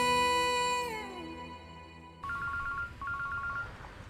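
A telephone ringtone in a Hindi drama scene: first a sustained electronic chord that bends downward, then a repeating bright two-tone electronic ring in short rapid bursts, fairly loud with no talking.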